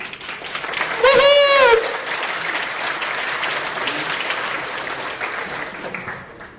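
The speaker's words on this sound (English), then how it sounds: "Are you enjoying the event so far? Round of applause." Loud sustained applause from a tech conference audience fills the hall, many hands clapping in a dense continuous roar, briefly overlapped by a whistle near the start and holding steady until it tapers at the end.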